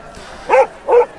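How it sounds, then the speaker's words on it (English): Two short, fairly loud barks from a boxer dog, close by, spaced a little under half a second apart against a quiet background. "sniff and bark at things that were threatening to me, like a good dog"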